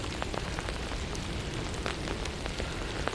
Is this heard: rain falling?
yes